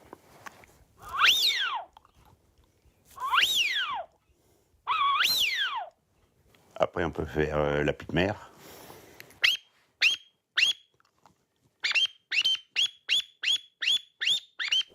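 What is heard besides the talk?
whistle made from cartridge casings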